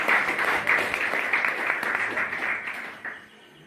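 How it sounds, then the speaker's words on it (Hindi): An audience of distributors at a meeting gives a round of applause, many hands clapping together in a continuous wash that gradually thins and fades out by the end. "आप तमाम F&W के डिस्ट्रीब्यूटर्स के लिए जोरदार तालियां हो जाए"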